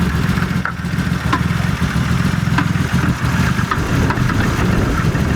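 A BMW M52 B25 engine idling steadily in a workshop unit, a loud continuous mid-low drone with faint periodic ticks, no voices over it.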